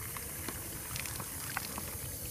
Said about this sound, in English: So from the top, you fill the water